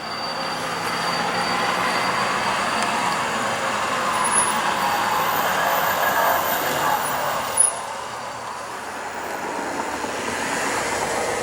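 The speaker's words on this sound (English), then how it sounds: "Following Q327 westward is a CSX track inspector." CSX track inspector vehicle running on the rails behind a freight train in winter snow, giving a steady broadband rolling rumble with faint high wheel squeals, fairly close and continuous.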